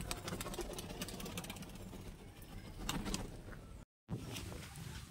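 Large Giribaj pigeons cooing in a loft, low soft throaty coos repeating amid a busy murmur of wingbeats and shuffling, close and steady, with a brief dropout near the end.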